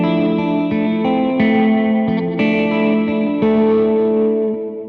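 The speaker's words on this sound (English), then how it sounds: "you can turn the tremolo off of the dry and just use the reverb" Electric guitar through a Champion Leccy pedal with tremolo switched off and only reverb on, sustained chords changing every second or so, loud and close, ringing with a smooth wash of reverberation.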